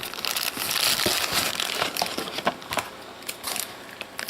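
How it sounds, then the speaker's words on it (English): Thin plastic packaging crinkles and rustles close by in irregular bursts as a car mount cradle is unpacked from its bag. "It comes in its own little plastic bag."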